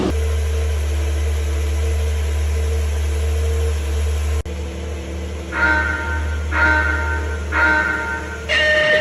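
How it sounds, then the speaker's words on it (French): A Porsche race car sits running on the grid before its start, its engine making a steady low drone with a few rhythmic rising revs toward the end, loud and close. "Et c'est parti pour le départ de la Porsche."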